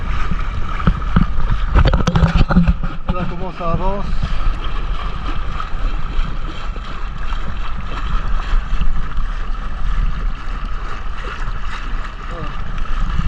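An outboard motor drones steadily on a small dinghy, mixed with wind, sea spray and water splashing; someone speaks briefly early on.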